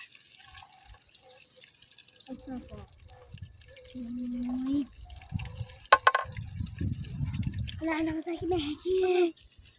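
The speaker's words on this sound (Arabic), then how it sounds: "وهسه ندير وياكم ماي" Water poured into a cooking pot for kabsa during an outdoor meal in the Iraqi wilderness, with splashes and drips, one sharp clatter near the middle, and people talking throughout.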